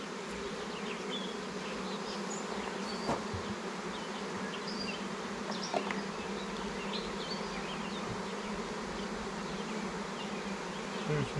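Honeybees buzz steadily throughout a nuc hive inspection, a dense continuous drone close to the frames with a few brief individual bees passing louder near the microphone.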